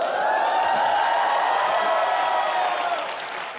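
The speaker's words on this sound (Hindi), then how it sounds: "कपिल पाजी के लिए जोरदार तालियां" Studio audience applauding and cheering for cricket legend Kapil Dev on a comedy talk show, a dense, loud, sustained roar of clapping and crowd noise that holds steady for a few seconds.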